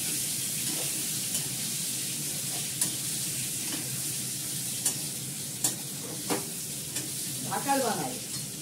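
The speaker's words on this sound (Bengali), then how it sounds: "আলুটা গল্প করতে করতে ভালোই ফ্রাই করে ফেললাম।" Potatoes sizzle in hot oil in a pan while being stirred, a steady soft frying hiss broken by light scraping taps of the spoon.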